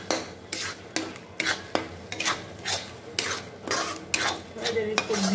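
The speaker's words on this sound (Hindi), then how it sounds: "सभी को आपस में मिक्स कर लीजिए" Paneer butter masala ingredients being mixed in a pan, a spoon scraping the metal in a steady run of quick rasping strokes over faint sizzling, close and fairly loud, with no voices.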